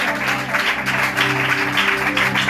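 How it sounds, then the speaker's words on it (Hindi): A church congregation claps steadily and densely, a continuous loud wash of many hands with a faint hum or music underneath. "आइए ताली बजाइए।"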